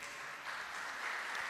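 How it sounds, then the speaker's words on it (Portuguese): A church congregation applauds steadily and fairly loudly in worship, with a dense, even wash of clapping that holds across the moment without any voice over it. "Você pode aplaudir Jesus bem forte."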